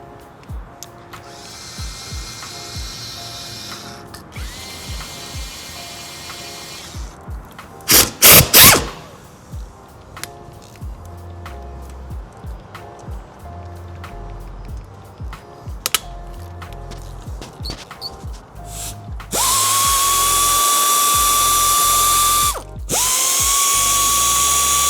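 Power tools and ratchets work loose the bolts holding the failing turbos on an engine, with bursts of ratcheting and mechanical clatter, then a loud sustained whirring tool run near the end; no talking.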